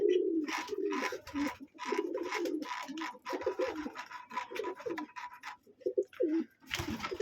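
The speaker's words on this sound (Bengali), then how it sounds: "এই একটা আমার সিরাজি কবুতর" A Sirazi pigeon cooing close by in repeated low, throaty phrases, with some faint scratching and rustling between calls.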